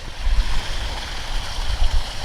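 A backyard koi pond waterfall splashing steadily, a continuous rushing water sound with low rumbling, heard alone.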